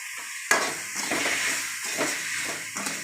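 Ingredients such as tamarind roasting in a pan for drumstick leaf dosa, a steady close sizzle and hiss with a few sharp stirring scrapes against the pan, with no talking over it.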